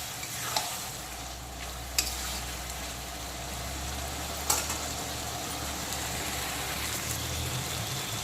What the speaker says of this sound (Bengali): তো গাটি কচুগুলোকে 2-3 মিনিট সময় নিয়ে কষানো মশলার সঙ্গে আবারও একটু কষিয়ে নিলাম